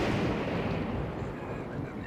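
A lightning strike hitting the player in The Legend of Zelda: Breath of the Wild, a loud, dense booming blast that fills the whole clip with rumbling, crackling noise and slowly eases off.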